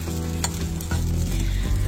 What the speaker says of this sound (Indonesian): Malam ini kami makan malam dengan bekal nasi goreng yang kami bawa dari rumah, yang kemudian kami panasin lagi